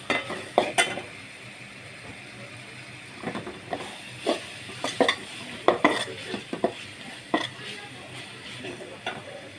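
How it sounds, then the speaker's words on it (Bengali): Beef with two or three bay leaves is sautéed in a pan, with repeated clinks and scrapes of a utensil against metal over a soft hiss and sizzle, and the stirring comes in bursts. "এখন কষিয়ে নিচ্ছি। দিয়ে দিচ্ছি 2-3টা তেজপাতা,"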